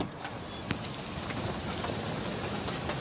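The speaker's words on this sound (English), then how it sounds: "Let me tell you though, it's crazy outside. The amount of rain." Heavy rain pouring outside during a severe storm, a dense, continuous hiss of drops with occasional louder spatters, steady and fairly close.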